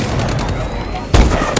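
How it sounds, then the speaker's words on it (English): Explosions from an enemy bombing run in the Call of Duty: Advanced Warfare video game, heard as a dense, rumbling barrage with one heavier close blast near the end, alongside voices. "Enemy bombing run overhead."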